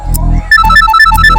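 A phone ringtone plays a bright repeating electronic melody of quick stepped notes, loud and close, following a brief low rumble in an indoor crime-drama setting.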